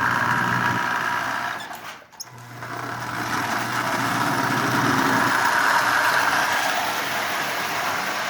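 The motor of a Marx 994 toy train locomotive whirs steadily up close, with a brief dip near the start, and no voice over it.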